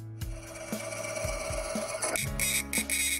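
An MPX 90 marking machine prints a serial number plate held in a vise, giving a fast run of dense mechanical scratching and tapping. Short clicks and whirring movements of the machine break into the sound.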